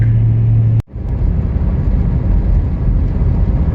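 A car drives along a gravel back-road highway, its steady, loud low rumble of engine and road noise joined by wind buffeting, broken by one short cut near the start, with no talking.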